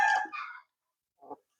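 An Asil hen calls up close with a loud, harsh squawk, then a short, softer cluck follows after a brief silence.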